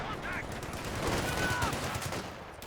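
An MG42 machine gun fires in Company of Heroes 2 amid a dense wash of battlefield gunfire, continuous crackling bursts at moderate distance with a voice talking over it.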